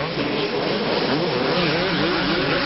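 Supercross motorcycles race at the 2001 Houston Supercross, a dense roar of engines with a revving tone that rises and falls continuously over loud broadband crowd and track noise.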